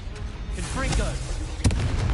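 A Confringo blasting spell explosion in the wizarding game Hogwarts Legacy, a sudden crack and boom partway through amid ongoing spell effects, with a voice calling out nearby.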